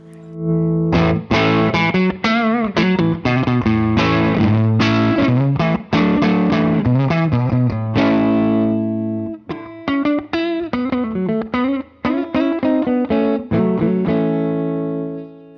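An Eastman electric guitar with a slightly bottom-heavy tone plays continuous chords and riffs through distortion and effects, loud and close, with a couple of brief pauses.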